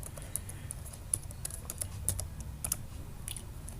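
Keys tapped at a steady, light pace on a computer keyboard while entering code, close and fairly quiet, with no voices.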